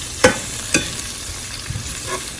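Onion cooking in a pan on a stovetop at medium heat, a steady sizzle marked by a few sharp spoon knocks and scrapes against the pan, close by and without talk.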